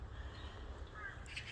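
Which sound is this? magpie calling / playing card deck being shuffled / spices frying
magpie calling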